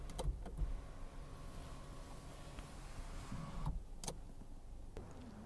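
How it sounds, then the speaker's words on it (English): A steady electric motor hum from the power sunroof of a 2016 Hyundai Elantra Sport running across several seconds inside the cabin, with a few soft clicks and knocks at the start and near the end. "when I pan to the top here, we have a power sunroof"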